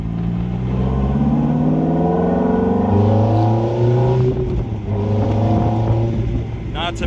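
A 2005 Ferrari F430 Spider with a gated manual gearbox runs loudly and close by, its engine note rising and falling in pitch through revs for several seconds without a break.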